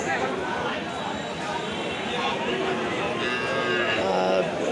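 Cows at a busy cattle market selling dairy cows and calves, with dense crowd chatter and bustle throughout and occasional lowing blended into the steady noise.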